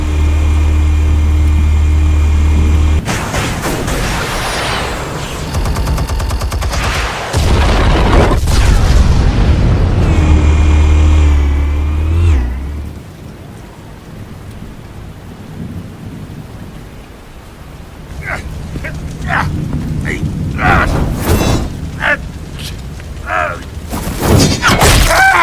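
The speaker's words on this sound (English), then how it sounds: "Explosives armed. Fire when ready." Heavy booming explosions from the Batman Telltale game roll out like thunder. They are loud and deep, with rumbling tails and crackling debris, and some faint game voices sit underneath.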